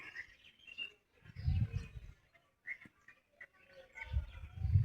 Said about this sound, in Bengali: দেখেন খালি পাখির ডাক আর পাখির ডাক।